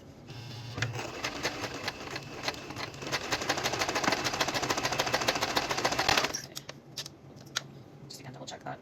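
A sewing machine stitches a T-shirt, with a close, fast mechanical whir and rattle that runs for about six seconds and then stops, leaving a few faint clicks and a quiet room behind.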